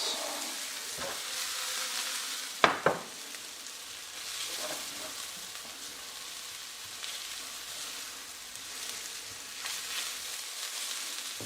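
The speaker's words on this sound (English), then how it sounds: "Make sure that you break up all that shallot, fill in the lumps." Shallots sizzle and fry in a pot while being stirred, a soft steady crackle broken by a couple of sharp scrapes of the spoon against the pot, with no talking.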